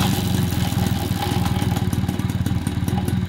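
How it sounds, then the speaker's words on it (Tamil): A motorcycle runs steadily at close range with a rhythmic low mechanical churn and clatter, consistent with a grinding drive chain; the engine note holds constant throughout with no talk. "செயின் அரைக்கிற சவுண்டு கேட்டிருக்கு."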